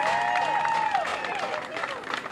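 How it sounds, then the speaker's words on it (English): Audience applause at a steak eating contest in Pasadena, a moderate burst of clapping and scattered cheers mixed with background music tones and some chatter, fading slightly toward the end. "give a big round of applause to Steph over here."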